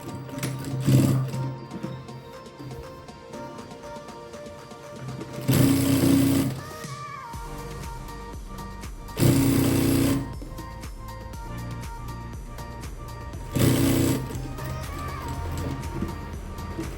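A sewing machine stitches a hook strip on a garment in short bursts, three or four loud rapid whirring runs separated by quieter pauses filled with faint handling and fabric rustle.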